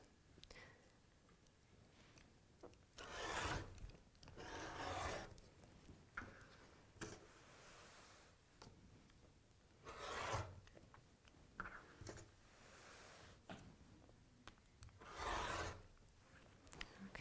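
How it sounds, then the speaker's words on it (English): Scissors cut T-shirt fabric to free a Tinkerbell print for a quilt. Faint, close crunching snips come in separate bursts with quiet pauses between them. No talking. "So now we're going to cut Tinkerbell out."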